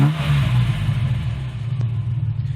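Steady, loud close-up idle of a 1987 Ford Capri 280 Brooklands V6, a deep continuous rumble with a slight rev and one brief click near the end, no speech.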